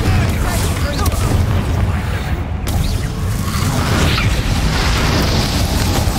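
The Confringo fire spell explodes in Hogwarts Legacy with a loud, dense booming roar that is sustained for several seconds, while voices talk over the blasts.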